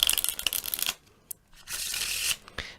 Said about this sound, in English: I'm going to take this deck of cards and I'm going to give it a wee bit of a shuffle